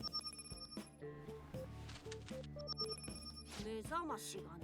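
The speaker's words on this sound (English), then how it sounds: "That alarm indicates that time for your attendance at school is drawing closer, yes." Alarm bell ringing in the video game Persona 5: The Phantom X, a repeating electronic ring with steady tonal pulses and game music, under a nearby voice talking throughout.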